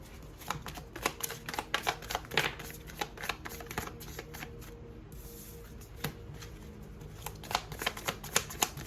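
Tarot cards are shuffled close up in a quiet room, making a run of soft, quick riffling flicks and taps that pause briefly near the middle before resuming, with no talk.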